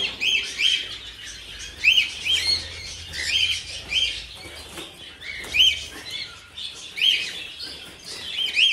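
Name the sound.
young birds chirping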